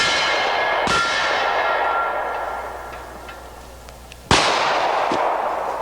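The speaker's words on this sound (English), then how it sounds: "Let's go ahead and load them and do a little shooting." Two .45 ACP revolver shots fired outdoors about three and a half seconds apart, each a sharp loud crack trailing into a long reverberant decay, with a steady outdoor background between them.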